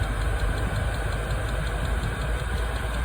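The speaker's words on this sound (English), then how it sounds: "This is the first test of my diesel heater in my RV." A diesel heater runs on its first test inside an RV on a snowy day, giving a steady, dense mechanical drone with a faint rapid pulsing, close and unbroken with no voices.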